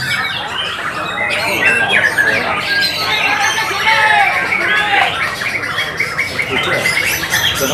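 White-rumped shama (murai batu) singing at a songbird competition, a dense run of loud, varied whistles and squawks over crowd chatter and people talking nearby.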